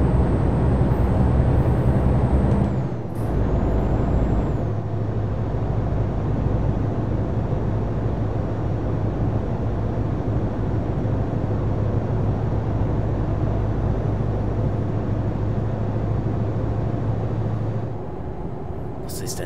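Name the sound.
very old truck in video game Euro Truck Simulator 2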